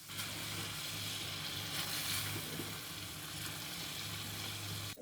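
Chicken pieces coated in turmeric and spices for a restaurant-style chicken kadai are stirred in a pan, giving a steady, fairly faint sizzle with soft scraping, and no one speaks.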